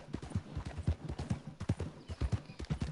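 A ridden horse's hooves clip-clop in a video game, a steady, rhythmic series of hollow thuds at a moderate walking pace, close and clear with no talk over them.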